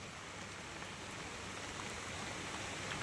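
Steady rain falling outdoors, a dense, continuous hiss of drops on surfaces with no breaks, fairly loud and close, with no voices.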